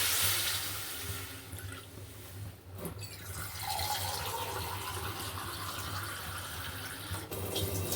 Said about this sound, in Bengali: এটাকে নেড়ে চেড়ে জল দিয়ে দেবো। জল দিয়ে দিলাম।